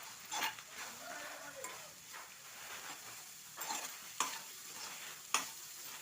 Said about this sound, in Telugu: ఇప్పుడు ఇందులో బీట్రూట్ వేసేద్దాం.